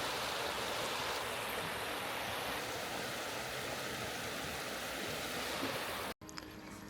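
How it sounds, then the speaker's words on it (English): A river winds through the Julian Alps mountains in Slovenia, a steady loud rushing wash of flowing water close by that runs alone without a break before cutting off abruptly near the end. "This river just winds its way through the mountains."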